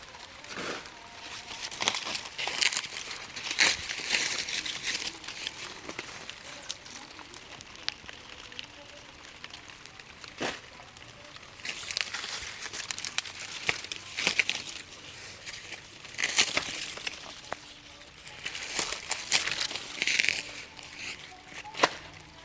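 Native red corn ears snapped off the stalks by hand during a rainy harvest, giving repeated crisp crackling and rustling bursts of husks and leaves, close and moderately loud, with soft rain-like patter in between.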